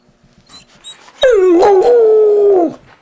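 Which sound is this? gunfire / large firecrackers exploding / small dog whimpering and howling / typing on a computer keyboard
small dog whimpering and howling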